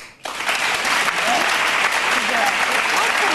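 Studio audience clapping on a talk show breaks out abruptly after a brief quiet moment, then holds as a dense, loud, even roar of applause to the end.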